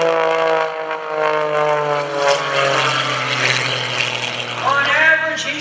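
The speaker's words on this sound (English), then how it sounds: "Here comes Greg Connell rolling that airplane" Aerobatic propeller airplane flown by Greg Connell at the 2015 Greenwood Lake Airshow, rolling as it passes; a loud, steady engine drone with strong harmonics that shifts in pitch toward the end of the fly-by, with a voice talking over it.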